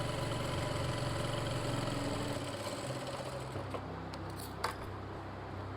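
A sewing machine stitches a seam on palazzo pants with a steady, fast mechanical whir that eases slightly partway through, then a brief click near the end.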